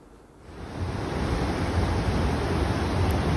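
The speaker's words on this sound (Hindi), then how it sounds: "यहाँ पे बहुत सारे छोटे छोटे झरने बहते हैं" Small waterfalls in a lush forest at Silver Falls State Park, Oregon, swelling into a broad steady rush of flowing water that stays loud and continuous with no voices.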